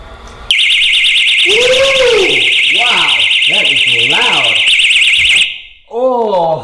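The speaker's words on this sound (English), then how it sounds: "they advertise in their directions that that alarm is 120 decibels" A piercing, very loud 120-decibel water leak detector alarm shrieks continuously at a high pitch for about five seconds, with a voice talking underneath, then cuts off abruptly.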